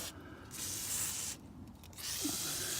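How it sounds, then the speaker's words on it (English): Roadmaster silicone lubricant sprayed onto the joints of an old, rusty RV entry step, with close hissing bursts in two long pulls separated by a short pause. "we just literally spray this with this Roadmaster silicone on all the joints"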